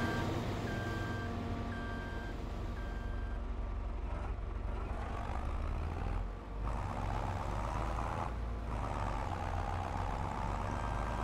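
Tractor engine in Farming Simulator 22 runs as a steady loud drone, with a repeating reversing-style beep near the start and brief dips in the rumble.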